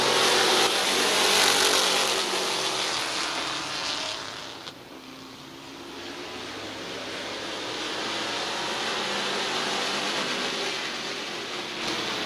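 Street stock race cars roar off at the green flag of a heat race at Midvale Speedway, a loud blended engine drone that swells, dips briefly, then builds again as the pack passes, with no voices.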